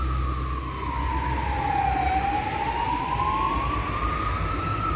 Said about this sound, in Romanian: Asta poate fi o salvare